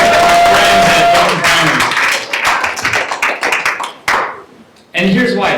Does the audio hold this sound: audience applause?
yes